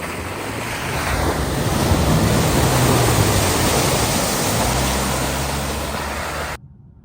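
A 2023 GMC Canyon pickup ploughing through a deep puddle over thick mud, a loud continuous rushing wash of water and engine rumble that holds steady for several seconds, then cuts off abruptly.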